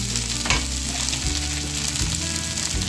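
Pumpkin and boiled potato sizzle steadily while frying in a pan, a continuous crackling hiss with a few stirring scrapes, close and moderately loud, no talking.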